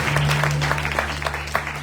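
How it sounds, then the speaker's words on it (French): Brief applause from a church congregation, scattered claps over a low steady hum, fairly close and loud. "Est-ce qu'on peut applaudir pour Luc?"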